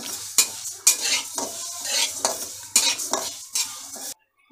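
A utensil stirs and scrapes urad dal and grains dry-roasting in a pan, giving rhythmic strokes with a light rustling sizzle, close and alone for a few seconds before the sound stops.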